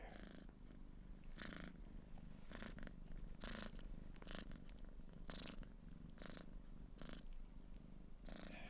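Low, rumbling purr imitated by a human voice, steady throughout with rhythmic breathy bursts repeating about every second.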